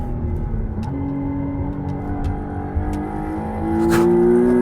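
A McLaren Artura hybrid sports car takes a corner at about 140 km/h, with a steady close engine drone that rises into a louder surge toward the end, heard from on board with no talk.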